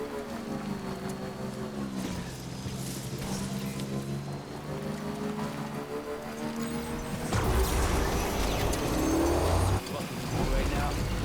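A motorbike in Death Stranding rides along with a steady engine drone that shifts pitch, joined by a louder rushing, splashing noise in the last few seconds. A voice talks over it.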